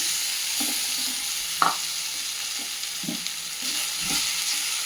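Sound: frying poha upma in a pan

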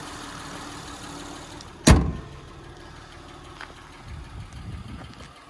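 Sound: 2008 Acura TL engine idling

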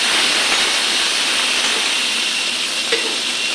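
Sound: potatoes frying in fish oil

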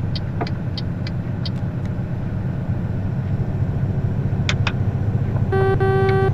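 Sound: horn of a Renault truck

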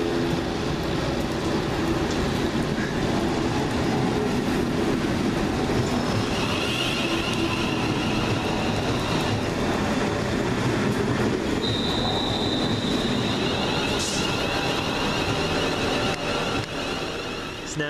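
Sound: London Midland passenger train moving on the rails

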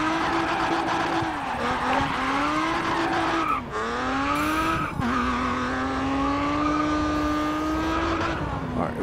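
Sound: race car clutch kick and tire skid in video game GRID Autosport

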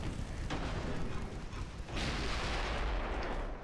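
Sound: naval gunfire from the video game Ultimate Admiral Dreadnoughts

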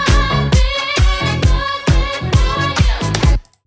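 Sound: kick drum added to disco edit loop

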